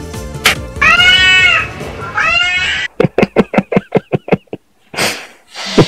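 A cat meows loudly and close, two drawn-out calls, followed by a quick series of sharp knocking or tapping sounds and a breathy sniff.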